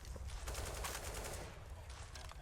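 Rapid gunfire rattles through walls in a competitive first-person shooter match at a tournament, a dense, steady barrage of shots over low background rumble, with faint voices underneath.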